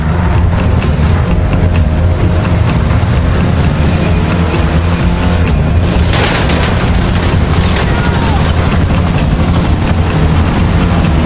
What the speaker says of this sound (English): See that chopper? It's transporting our vehicle. Shoot it down.